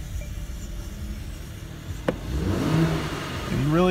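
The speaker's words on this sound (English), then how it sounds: "You rev it, you get nothing but turbo sound." A Mercedes E43 AMG sits quietly at idle, then a single rev swells up near and loud with rising engine tones and a turbo whoosh, after a brief click.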